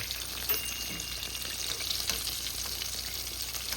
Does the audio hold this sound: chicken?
yes